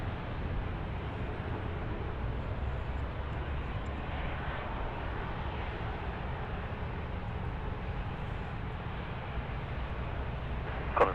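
Boeing 747 jet at Sydney Airport, a steady broad roar of engines heard from a distance without pause, a faint swell in the middle.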